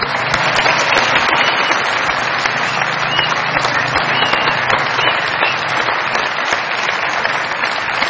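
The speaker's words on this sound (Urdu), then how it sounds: "بہت ساری تالیاں میرے بھائی کے لیے." Sustained, loud studio audience applause at a Pakistani comedy show, a dense wash of many hands clapping steadily throughout without a voice over it.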